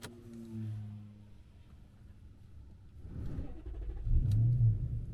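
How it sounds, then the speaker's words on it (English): A car engine cranking and catching in freezing winter cold, a low rumbling turnover that swells after a few seconds and settles into a steady idle, heard close and alone. "let's see if car's gonna start."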